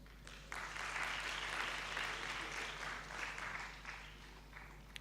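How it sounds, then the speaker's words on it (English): An audience at an academic conference gives a round of applause, a sustained, even roar of many hands starting abruptly after a half second and fading near the end, over a constant low electrical hum. "Can we give a round of applause to her,"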